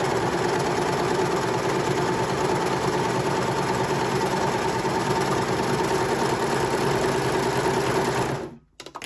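An overlocker serger stitches steadily along a piece of fabric, a loud, continuous mechanical whirr with rapid rhythmic needle chatter that runs unbroken for about eight seconds before stopping abruptly.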